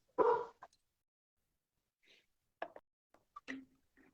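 Dog barking, a loud close bark at the start followed by a few fainter, scattered yips and woofs with silence between them.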